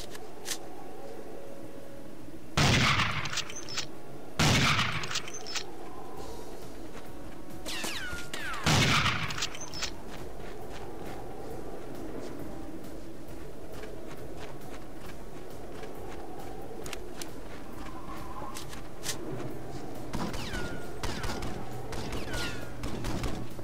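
Gunfire in the James Bond 007 Nightfire video game comes as several loud, sharp bursts of shots spread across a busy stretch of game audio. Footstep-like clatter and lighter effects run in between the bursts.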